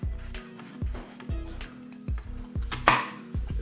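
A knife chops onions on a board for a cheesy burger, striking in a steady rhythm of about seven firm, close thuds roughly half a second apart.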